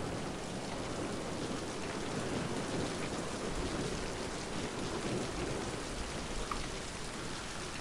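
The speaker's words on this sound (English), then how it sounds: "Oh, this makes it rain." Steady, dense rain from the video game Mind: Path of Thalamus hisses evenly throughout, constant and fairly loud with no pauses.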